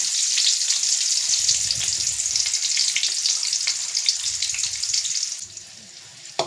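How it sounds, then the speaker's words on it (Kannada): Onions frying in oil in a pan for bakery-style egg puffs, a steady close sizzle that runs alone for most of the clip and thins out near the end. "ಒಂದು ಬಾಣಲೆಗೆ ಎಣ್ಣೆ ಹಾಕಿ ಈರುಳ್ಳಿ"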